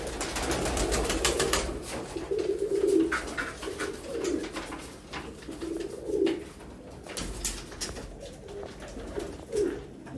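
Pigeons in a loft coo softly in repeated low phrases, several birds calling at intervals among faint rustling, with occasional brief clicks and sharper noises.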